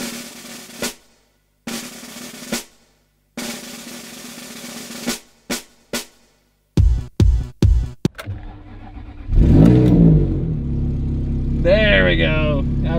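A Ferrari 360 gives a run of short, clipped bursts, then fires with a sharp crackle and settles into a loud, rising rev near the end, with a brief voice at the close.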